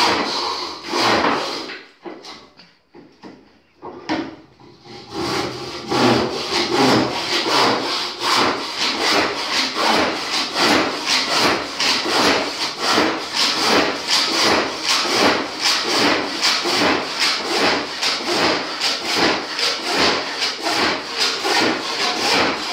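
An Irwin Evo 22-inch hand saw cutting through wood: after a few hesitant strokes, a long run of steady, even rasping push-pull strokes, close and loud.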